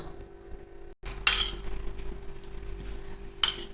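Cutlery and dishes clink during washing up in a home kitchen, with a couple of sharp bright clatters standing out over a steady low hum and running-water background.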